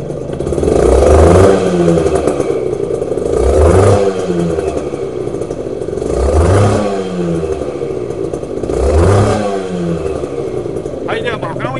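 A Honda NSR80 two-stroke motorcycle with a BRD expansion chamber revs repeatedly, four rising and falling bursts over a buzzing idle close by, with a brief voice at the end.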